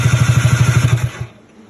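A Kawasaki 650SX jet ski engine, fitted with a new starter and no spark plugs, cranks over in a quick, even run of about a dozen loud, close chugging pulses, then stops abruptly into near silence.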